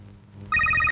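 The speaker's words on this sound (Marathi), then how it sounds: "बोल मैत्री, काय कधीपासून वाट बघतोय मी फोनची" A telephone bell rings in one short burst of rapid, bright trilling strikes. The ringing starts abruptly halfway through and stops cleanly, close and fairly loud, over a low room hum.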